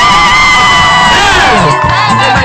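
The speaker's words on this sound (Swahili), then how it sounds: "Vigelegele mama, vigelegele." A celebrating crowd breaks into loud ululation, many high, wavering trills overlapping close by, then trailing off into shouts and cheers.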